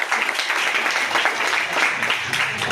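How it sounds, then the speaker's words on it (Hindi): Audience at a student honours ceremony in Katni clapping together, a dense sustained round of applause from a crowd filling the whole moment at steady loudness. "जोरदार ताली।"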